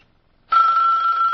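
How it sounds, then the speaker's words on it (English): An old telephone bell rings loudly and continuously after a brief silence, a single sustained ring close up with no talk. "The old phone."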